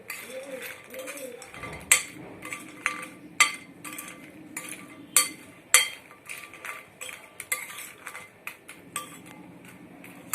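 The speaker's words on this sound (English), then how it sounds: "Now mix it well." Cutlery stirring Kurkure chaat with coriander leaves and lemon juice in a bowl, giving a run of clinks and scrapes, with sharp metallic taps spaced every second or so against a low background.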